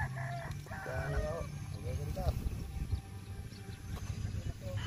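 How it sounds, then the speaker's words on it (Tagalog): A rooster crows at a chicken farm full of birds, with several moderately distant crows and clucks rising over a steady hum of background noise and flock chatter. "Dami yung manok ah."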